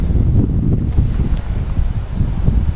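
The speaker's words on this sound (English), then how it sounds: "The wind's picked up a little bit." Wind gusts outdoors beside a meat smoker, a constant loud low rumble buffeting the microphone for the whole stretch, with no other sounds standing out.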